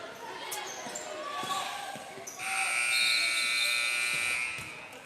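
A buzzer sounds at a high school boys' basketball game, a sustained electronic tone in the second half of the clip over gym crowd noise, squeaks and ball bounces.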